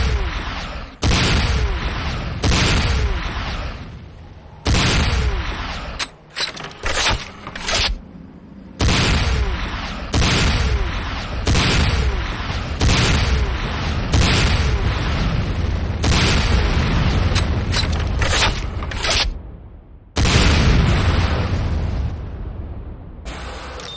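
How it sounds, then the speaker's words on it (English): A GDI Weapons Factory blows up in Command & Conquer Renegade, a long run of loud, close booms and blasts rolling one after another with brief gaps, layered over constant battle noise. "GDI weapons factory destroyed."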